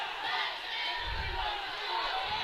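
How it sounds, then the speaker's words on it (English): The crowd at a Carlisle high school regional wrestling dual yells and shouts in a dense, continuous roar that swells briefly partway through, close and loud. "Carlisle crowd right in front of us, imploring Miller to shoot."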